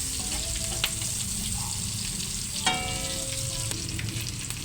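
Crushed garlic and sliced onion sizzle in a little cooking oil, a steady soft frying hiss with occasional stirring clinks of a utensil against the pan, heard alone and fairly quiet.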